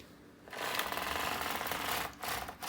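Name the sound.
double bed knitting machine knitting rows of stockinette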